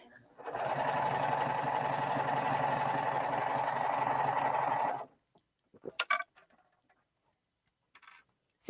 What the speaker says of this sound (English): she is just sewing a seam about 1/4 inch away and not sewing over her wonder clips